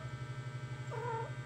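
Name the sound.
stray cat meowing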